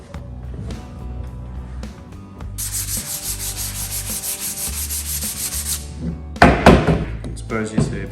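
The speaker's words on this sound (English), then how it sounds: "I might actually experiment with just sanding it, see if you get a bit more of the grain to come through actually." Sanding across the face of charred shou sugi ban timber, a steady abrasive rubbing that runs for several seconds, followed by a few knocks and thuds near the end.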